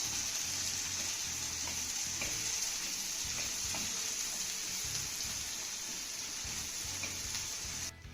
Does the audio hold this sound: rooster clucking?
no